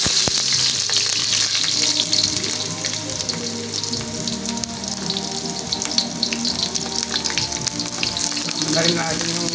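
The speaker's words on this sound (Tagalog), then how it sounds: "Una, i-iisa muna natin yung sibuyas bawang." Onion and garlic sizzle steadily in a hot pan, a loud continuous frying crackle close up with a faint voice in the background.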